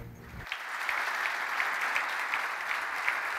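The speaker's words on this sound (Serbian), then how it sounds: "molim vas još jednom aplauzom pozdravite Dragana Stojkovića" A ceremony audience gives sustained applause for the best coach of 2021 at the Serbian Football Association's Golden Ball awards, a dense, steady wash of clapping from a large hall that rises quickly and holds at moderate volume.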